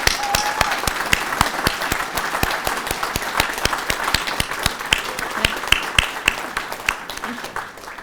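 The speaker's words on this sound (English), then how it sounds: "I would like to just give a round of applause to all these people." Audience at an anniversary celebration giving a round of applause, many hands clapping steadily with some sharp, rhythmic claps standing out and occasional voices, tapering slightly at the end.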